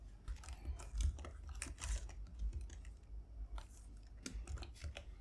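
Quiet typing on a Mac computer keyboard, a string of light, irregular key clicks close to the microphone with short pauses between them and no talking.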